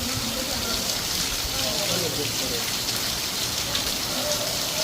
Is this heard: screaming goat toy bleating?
no